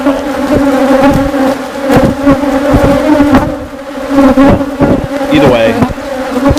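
Loud, dense buzzing of a honeybee colony during a mid-June hive inspection, a steady close drone of many bees with occasional louder passes near the listener.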